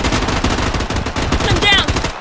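Rapid automatic gunfire in the shooter Project BloodStrike, a dense, loud, steady rattle of shots filling the whole stretch, with a brief electronic chirp near the end.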